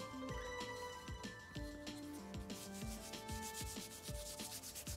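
Sanding dust being rubbed into a glued crack in a turned apple-wood piece, a close, faint, repeated rhythmic scratchy rubbing with brief tonal squeaks between strokes.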